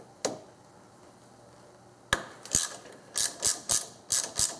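Ratchet wrench turning a 10mm bolt on a Subaru power steering pump, an opening click and then a quick series of rhythmic ratcheting clicks, close and crisp.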